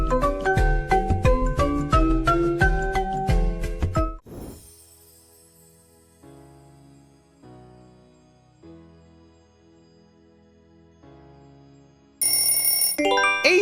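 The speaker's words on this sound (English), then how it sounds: "Asus is the owner of this ringtone." An Asus smartphone ringtone opens with a bright, quick melodic run of chiming notes, then drops to softer, sparse tones before a loud burst returns at the end.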